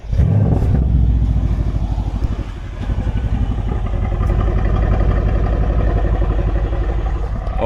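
Mercedes-AMG C63 S V8 engine starting with a sharp crank and bark, then loud throaty revs settling into a deep, lumpy, rumbling idle with rhythmic burble, close up and alone.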